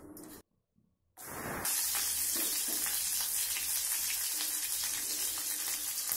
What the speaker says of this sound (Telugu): ముందుగానే నూనెలో కొంచెం ఫ్రై చేసుకోవాలి